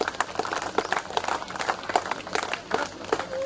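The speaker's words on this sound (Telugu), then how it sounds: "క్లాప్స్ గట్టిగా" Audience at a school alumni get-together party applauding as a teacher is called to the stage, a dense, moderately close patter of many hands clapping throughout.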